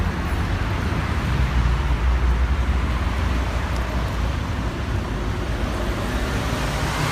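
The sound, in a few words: city traffic in Johannesburg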